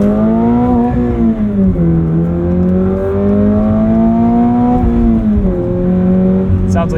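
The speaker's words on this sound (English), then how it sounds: "Truly terrible piped-in engine noise" A 2025 Toyota GR86 Hakone Edition's engine drones and revs from inside the cabin, mixed with artificial piped-in engine noise, a loud steady hum rising and falling in pitch.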